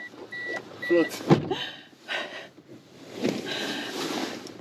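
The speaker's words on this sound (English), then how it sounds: "Somebody just opened my car door." Car door opened by a stranger from outside, heard as a few clunks and rustles with a latch click and shifting sounds, fairly close but soft, with brief movement noise and no talk.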